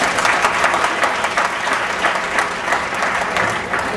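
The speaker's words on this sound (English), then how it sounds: "Give him a round of applause." An audience at an LA regional business event breaks into applause, a dense, even wash of many hands clapping that holds steady throughout with no talk over it.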